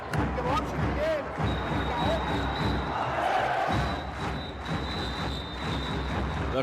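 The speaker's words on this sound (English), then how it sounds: "The crowd in Cairo coming alive" A basketball crowd in Cairo cheers at a FIBA final between Al Ahly Sporting Club and Ferroviario Maputo, a steady loud arena roar with whistles and squeaking shoes, and someone talking over it.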